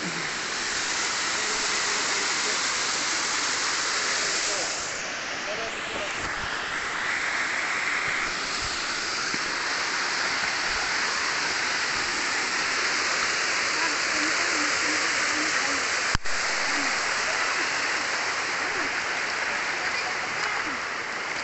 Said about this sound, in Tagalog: Falls naman ito. Falls na.